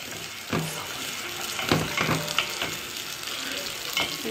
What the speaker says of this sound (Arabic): ابدا بقى البصل يتحمر